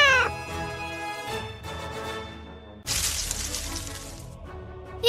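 A cartoonish cat meows over light synthesized music in a Daniel Tiger's Neighborhood children's game, followed by a bright shattering crash; no one speaks.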